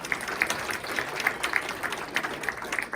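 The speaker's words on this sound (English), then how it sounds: "Give him a nice round of applause" Audience applause at a Hall of Fame induction ceremony, steady dense clapping from a crowd lasting throughout, moderately loud with scattered sharper claps standing out.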